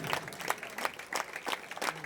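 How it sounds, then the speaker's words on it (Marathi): An audience at a palkhi dance troupe performance claps in a steady rhythmic beat, with about six evenly spaced crowd claps over two seconds, heard at moderate distance. "आपण सर्वांनी टाळ्यांचा गजर दिला"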